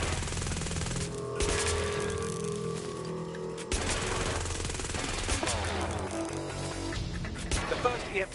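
Sustained automatic gunfire and bursts in the video game Watch Dogs: Legion, loud and continuous with crashes and engine-like rumble mixed in, no talking over it.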